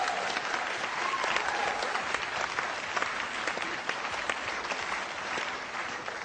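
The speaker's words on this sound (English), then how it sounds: "I think just give Yvette a round of applause for her" An audience claps steadily for Yvette during a live ghost-hunting broadcast from Dover Castle, a dense, even wash of applause from a crowd that holds at one level for several seconds.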